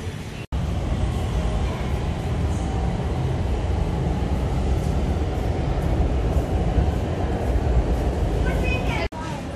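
Lahore's Orange Line metro train runs steadily with a continuous rumbling roar and rail noise from inside the carriage, loud and unbroken except for two brief dropouts.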